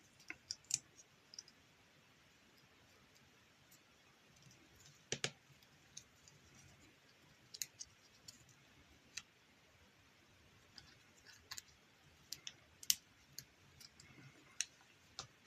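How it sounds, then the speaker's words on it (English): Tiny plastic clicks and ticks sound sparsely and faintly against near silence as a SIM card is slotted into a Ulefone RugKing 4 Pro rugged phone. "So I'll put the SIM card in."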